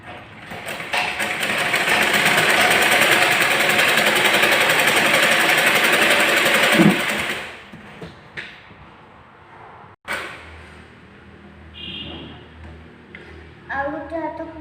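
A sewing machine runs steadily for about seven seconds while stitching a blouse, a loud even whir that stops abruptly, followed by quieter handling noises and a sharp click.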